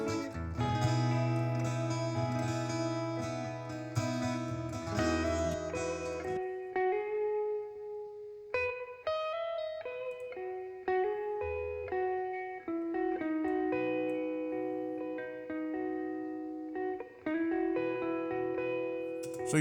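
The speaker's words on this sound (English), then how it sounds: "You're getting preamp noise, and that's only natural and normal." Distorted electric guitars recorded through a Marshall amp, playing crunchy chords and riffs with a steady, loud, saturated tone, echo and reverb effects, and a faint preamp hiss underneath.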